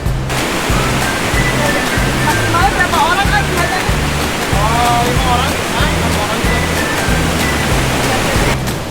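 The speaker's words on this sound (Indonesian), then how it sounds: "Terus ada juga menyeberangi sungai dengan jembatan bambu." A river rushes near a bamboo bridge at Curug Cikante waterfall in Geopark Ciletuh, a loud, constant roar of flowing water under a rhythmic musical beat.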